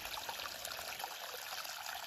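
A small mountain spring stream on the Appalachian Trail trickles and bubbles steadily over rocks, a faint, close, continuous flow with no voices.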